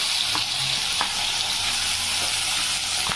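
Plantain pieces sizzling in hot oil with dried red chillies, a dense, even crackle filling the whole stretch, close and steady, with a few soft knocks of a spoon and no voices.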